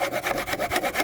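A wood hand saw cuts plywood-like material for mouldings in quick, steady back-and-forth strokes, about ten rasping pulses in close succession, near and clear with no talk.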